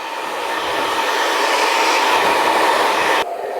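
Hair dryer running on high speed and high heat while drying hair during a haircut, a loud steady close whoosh that holds even throughout and shifts slightly near the end.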